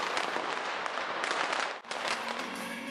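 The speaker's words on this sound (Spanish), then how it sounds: "tirando al suelo petardos conocidos como tro de vac" Firecrackers thrown onto the street during Las Fallas in Valencia crackle and pop in a dense, continuous burst of sharp snaps, loud and near.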